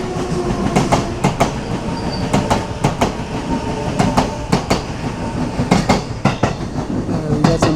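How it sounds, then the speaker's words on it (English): A train rolls past at night in Tachikawa, Japan, loud and close, its wheels beating a rhythmic clickety-clack over the rail joints on top of a heavy rumble. "Oh, there's a choo-choo."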